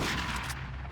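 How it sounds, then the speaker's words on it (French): A pump shotgun fires in the video game GTA Vice City, a single booming blast that rings out and fades over less than a second, fairly quiet overall. "Ça marche bien le fusil à pompe."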